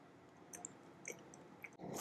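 Close, soft crunching and chewing of toasted bread in a quiet room, a few crisp bites and squishy chews with no talking.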